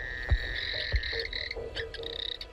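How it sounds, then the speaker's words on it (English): Frogs call at night along the South Alligator River in Kakadu during the wet season, a dense chorus of croaks and bright trills with a couple of sharp, low knocks, close and clear. "many of Kakadu's frogs are now awakened by the rain"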